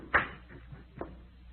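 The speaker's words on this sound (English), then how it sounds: "Close the door." A door swings shut in an old radio drama, giving a dull, close thud followed by a softer second knock a moment later against a quiet background.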